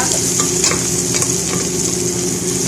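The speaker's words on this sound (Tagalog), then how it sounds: "isa muna natin sa bawang, kunting luya, sibuyas" Garlic, ginger and onion sautéing in a pan before spinach goes in, a loud continuous sizzle with scattered stirring clicks, close up and free of talk.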